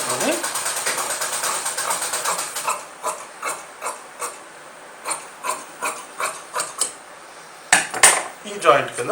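Scissors snipping through fabric while cutting a legging, a series of crisp, evenly spaced cuts after an opening rustle of cloth, with a clatter near the end.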